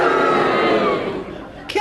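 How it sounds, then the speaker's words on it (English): A studio audience at a radio panel game cheers and boos at once, a loud mixed crowd roar that fades slightly before a brief final burst. "If you think that Geraldine's challenge was justified, will you please cheer?"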